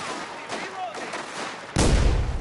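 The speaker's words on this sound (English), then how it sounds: "That grenade, that is a grenade." A grenade blasts in the game Mafia: The Old Country, a sudden loud, broadband boom near the end that stays heavy and rumbling after quieter game sounds and faint chatter.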